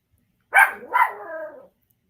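A single dog gives two close, sharp barks that trail into a short whining yelp, loud and alone against silence.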